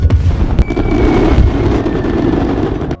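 Fireworks exploding inside a car at a petrol station, a dense, loud barrage of rapid crackling bangs and booms that runs continuously for about three seconds and then cuts off abruptly.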